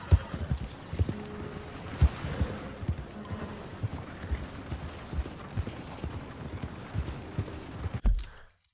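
Horse hooves clip-clopping at a steady walking pace in the Red Dead Redemption 2 video game, moderately close, with a faint neigh near the end before the sound cuts out.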